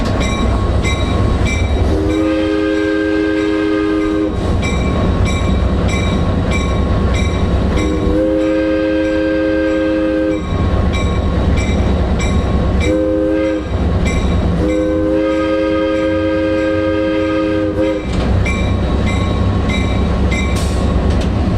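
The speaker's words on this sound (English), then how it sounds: "The train whistle." A loud train whistle blows several long and short blasts, close by, over the steady rumble of a moving train on the Adirondack Scenic Railroad.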